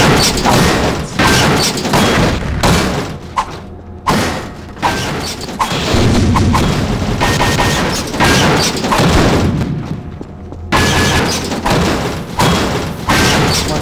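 An objective being destroyed in the game map dys_tower, a dense run of loud booming thuds, crashes and mechanical clatter that fills the whole stretch with brief dips between bursts.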